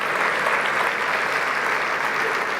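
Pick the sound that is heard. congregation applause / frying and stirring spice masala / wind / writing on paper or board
congregation applause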